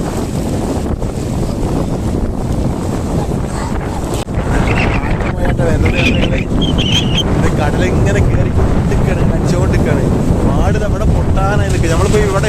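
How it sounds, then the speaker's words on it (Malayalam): A strong storm wind in Kerala during heavy rain and flooding roars and buffets the microphone in a loud, continuous rush, while voices talk faintly underneath in the second half. "കാറ്റോണ്ട് നല്ല കാറ്റാണ്"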